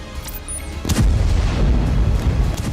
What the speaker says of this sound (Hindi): धमाके हो रहे हैं।